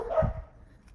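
Dog barking once or twice, a short moderately loud bark with a low thump, fading into quiet background.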